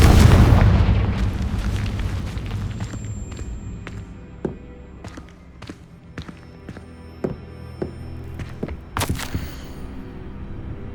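Confringo fire spell from the game Hogwarts Legacy: a deep, booming blast that rumbles away, followed by a scatter of crackling pops and bright magical chimes.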